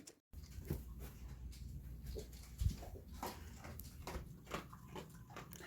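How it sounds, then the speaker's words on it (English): Soft whimpering and whining from a service dog, a gentle female, up close in a quiet home, with faint higher cries over the whole stretch and a brief louder yelp midway. "That is Marley's service dog."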